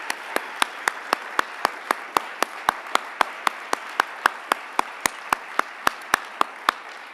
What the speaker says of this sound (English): big round of applause for all our celebration of leadership honorees